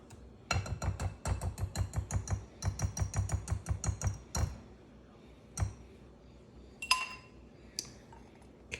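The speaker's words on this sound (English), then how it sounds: "let me put my eggs in the bowl and kind of stir them around a little bit" A utensil whisks eggs in a bowl with a fast run of rhythmic clinks and taps for about four seconds, followed by a few scattered knocks and clinks, close and fairly quiet.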